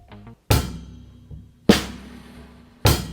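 A drum kit with bass drum, snare and hi-hat plays a simple, slow beat: three loud, punchy hits with ringing decay, separated by softer taps, close and unaccompanied by speech.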